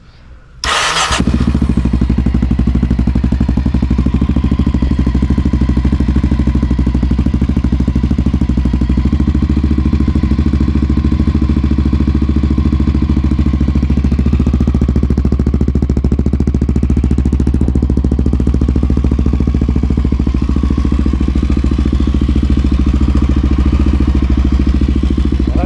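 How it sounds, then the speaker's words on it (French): A Honda NX650 Dominator motorcycle engine fires up with an abrupt start, then settles into a loud, steady, close-up idle that runs on without a break. "Donc je vais vous faire un petit démarrage, tiens, un petit coup de démarrage."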